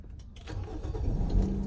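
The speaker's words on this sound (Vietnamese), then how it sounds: "khởi động máy" A 2008 Toyota Yaris 1.3 with automatic transmission starts up: a short cranking burst followed by the engine catching and settling into a steady, smooth idle, recorded close by with no talking.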